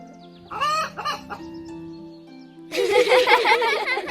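A rooster crows and clucks loudly nearby, with a short call first, a pause, then a longer, louder burst of crowing.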